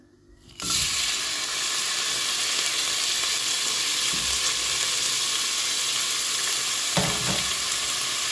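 Chopped onion drops into hot olive oil in a pan and breaks into a loud, steady sizzle that carries on evenly, with a couple of faint clatters partway through.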